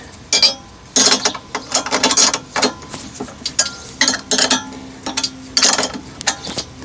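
Bolts being tightened on a Panther Mill 2 chainsaw mill: close, rapid bursts of ratchet clicking in short irregular runs, with brief pauses between the strokes and no talking.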